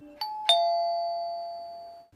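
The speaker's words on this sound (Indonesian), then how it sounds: "Suara bel berbunyi dari tetangga seberang yang menyapanya" An apartment doorbell rings with a two-note chime, the first strike short and the second ringing out and fading over about two seconds, close and clear with no voices.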